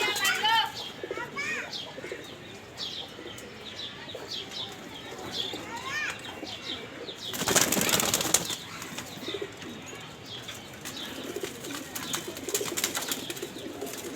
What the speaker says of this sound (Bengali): কবুতরগুলি মোটামুটি খাবার খেয়ে ফেলছে